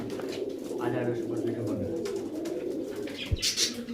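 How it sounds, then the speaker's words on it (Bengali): Teddy pigeons coo softly in low, rolling murmurs, with a voice talking over them and a brief thump near the end. "এই দেখুন পায়রা দেখুন কেমন।"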